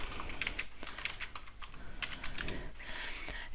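Fingers tap quickly on a computer keyboard, a close, quiet flurry of irregular key clicks with short pauses in between.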